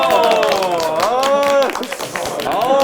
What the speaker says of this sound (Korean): 박수 한 주세요